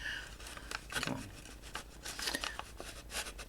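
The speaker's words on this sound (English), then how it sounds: "It's just a paper punch." A handheld paper punch cuts along the edges of paper for handmade envelopes, giving a series of close, crisp snipping and crunching sounds with light rustling of paper in between.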